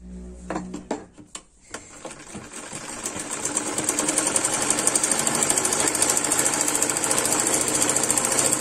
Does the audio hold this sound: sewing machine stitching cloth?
yes